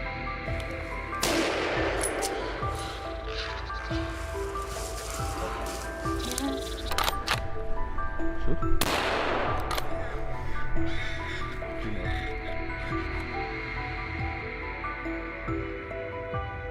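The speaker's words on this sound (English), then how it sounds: "Without hesitation, rapid gunshots rang out, cutting off the beast's escape route." Rapid gunshots crack out during a wild boar hunt in dense forest, a few sharp bursts standing out over a steady, busy background with other noise mixed in.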